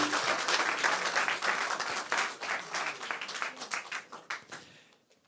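An audience applauds at a talk or conference, a dense wash of many hands clapping, loud and sustained before thinning out and fading at the end.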